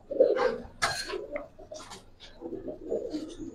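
Giribaz pigeons at close range give a few soft, low coos in short bursts, interrupted by a brief louder rustle or flap.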